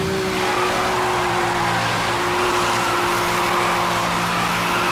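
A Subaru drifting in Need for Speed Hot Pursuit Remastered, a loud steady tire squeal held over a droning engine tone, continuous and close for the whole stretch.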